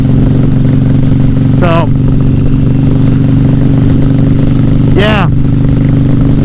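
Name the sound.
Harley-Davidson Softail motorcycle engine while riding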